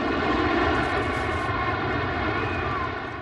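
Loud, steady roar of an aircraft engine as a plane bears down, a broad continuous rumble that holds through the whole stretch without talk.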